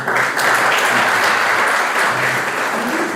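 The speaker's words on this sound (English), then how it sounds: "A round of applause again" At an ICT conference, an audience gives a round of applause, thick and continuous clapping that fills the room at steady loudness with little variation, and only slight murmurs beneath.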